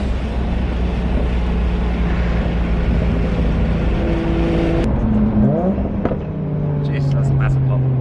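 Exhaust of a 620 whp Toyota Supra with a 2JZ engine and screamer pipe, a loud steady engine drone near the listener with a sharp pop around the middle, people talking over it.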